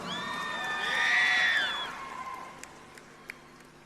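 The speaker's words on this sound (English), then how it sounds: "A round of applause for Miss Nauru." An audience at the Miss Pacific Islands pageant cheers and shrieks for a contestant, a swelling burst of high-pitched shouts and whoops that peaks and then fades, with scattered claps trailing off.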